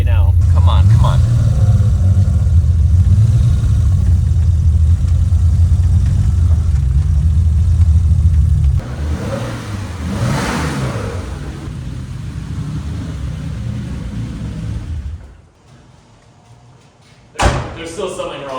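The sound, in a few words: turbo BMW E28 engine running and revving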